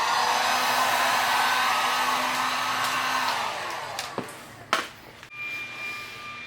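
A neighbour's leaf blower runs nearby, a sustained whining roar that drops away partway through and is followed by a few sharp knocks and clicks.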